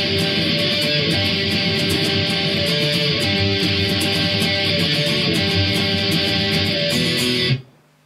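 Distorted electric guitar plays the intro riff of a song, a loud, dense, sustained wall of tone with steady picked rhythm that cuts off abruptly near the end.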